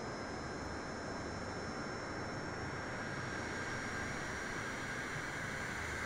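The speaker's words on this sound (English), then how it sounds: "you will see that the engine is speeding up" Boeing 747 jet engines spooling up in Flight Simulator 2020, a steady broadband roar with a faint high whine held throughout, no speech.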